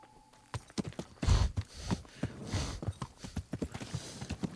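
Video game horse hooves clip-clop in a quick, uneven rhythm, fairly close and moderately loud, with no talking, in Kingdom Come: Deliverance.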